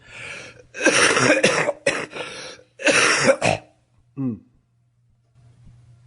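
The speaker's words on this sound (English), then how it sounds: "let me just let out a little cough here" Several harsh, close coughs and throat clearing from a man during a lecture, loud bursts in a quiet room, followed by a short voiced sound and faint background hum.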